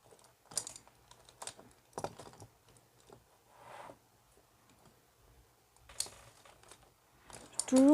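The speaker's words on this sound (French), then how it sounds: "Je vais juste écrire au crayon" A pencil writes a date onto a handmade autumn card, giving a few short, dry scratching and tapping bursts spread apart, with quiet pauses between them and no talking.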